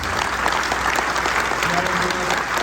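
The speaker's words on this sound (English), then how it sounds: "give these guys a big round of applause, please" Audience applause at a mortgage industry conference: steady, dense clapping from a crowd, continuous throughout with a voice faintly present underneath.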